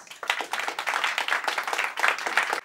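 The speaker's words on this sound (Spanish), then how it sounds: "Aplausos para nuestro concursante número dos" Audience applause for the second contestant in a lip-sync battle at a variety show, a short burst of crowd clapping with uneven swells, fairly close and continuous.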